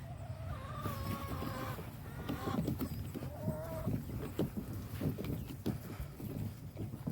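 Chickens cluck and chatter in a busy barnyard chorus, with some faint voices and clattering beneath the steady flock noise.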